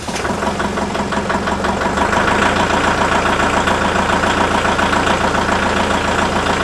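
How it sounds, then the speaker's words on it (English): A tractor engine cranks rapidly for a couple of seconds on a 12V jump starter, then catches and settles into a loud, steady chugging idle close by. "when I start it, you should be able to hear how fast it cranks compared to my normal slow crank"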